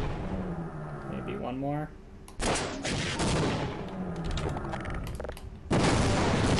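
Rocket blasts in the game Half-Life: a whooshing launch followed by several loud, sharp explosions in quick succession, with someone talking briefly near the start.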